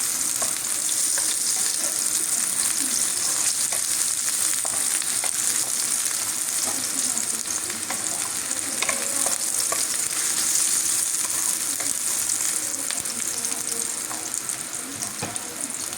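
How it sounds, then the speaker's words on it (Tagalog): Onions sizzle steadily in a hot pan while being cooked for pancit, a constant close frying hiss with occasional stirring scrapes and no one speaking. "Atin pong papupulahin muna kahit pula na yung sibuyas."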